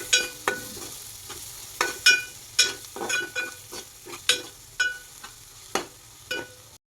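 Chili powder being stirred into a frying pan while cooking an elephant foot yam curry, with repeated sharp scraping strokes of a spoon against the pan over a steady low sizzle, close and moderately loud, with no talking.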